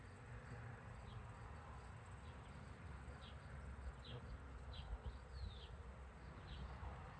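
Honeybees buzz in a steady, dense drone inside an open hive during an inspection of comb with larvae and drone cells, with a few higher buzzing passes rising over the constant hum.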